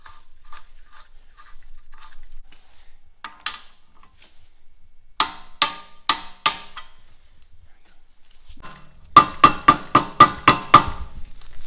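A hammer taps on a rear brake part of a VW Mk2 Golf during a GTI rear brake upgrade, sharp metallic knocks in scattered groups, then a fast run of about seven close, loud strikes at the end.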